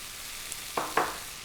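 Preserved mustard greens hit a hot pan of tofu mixture, giving a steady low sizzle with two short, sharper bursts of frying near the end, close and without talk.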